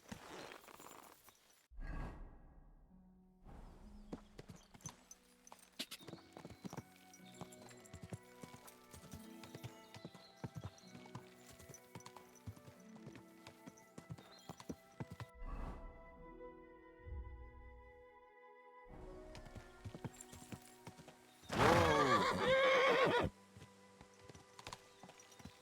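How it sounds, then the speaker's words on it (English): A horse in the video game Kingdom Come: Deliverance II clops its hooves in scattered steps amid quiet game sounds, then gives a loud neigh lasting about two seconds near the end. "Wait, is this my horse?"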